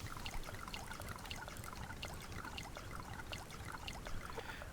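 Water pours and trickles onto crops in the survival game Subsistence, a steady close splashing dribble with small droplet ticks, running continuously and unbroken by any voice.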